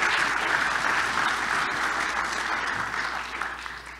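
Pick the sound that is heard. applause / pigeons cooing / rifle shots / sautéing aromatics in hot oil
applause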